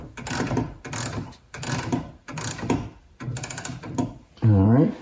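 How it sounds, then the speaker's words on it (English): A Puck phonograph is wound up by hand with a series of close, rhythmic ratcheting cranks, each turn followed by a short pause, and a low mechanical whir at the end. "And I wind it up."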